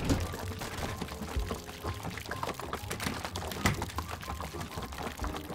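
Water pouring from a jug, a quiet continuous splashing trickle with small irregular bursts, close by and heard alone.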